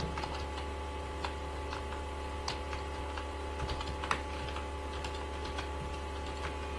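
Close keyboard typing as a query is entered on a computer, with rapid, irregular light key clicks throughout over a steady low electrical hum.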